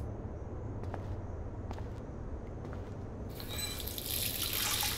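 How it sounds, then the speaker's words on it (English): In the Life Is Strange video game, water runs at a sink while a face is washed, a soft steady trickle with a few splashes that swells into a louder gush near the end. "Feels so good to wash my face after all that chlorine."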